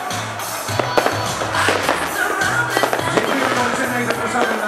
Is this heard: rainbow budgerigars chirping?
no